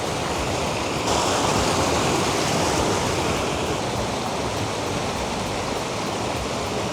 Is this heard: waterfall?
yes